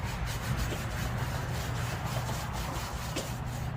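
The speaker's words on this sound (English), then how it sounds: "Rub some of that grease back on there." Grease rubbed onto a charcoal grill grate after cleaning, a steady low scrubbing and rubbing texture that runs continuously without pause, close and moderately loud.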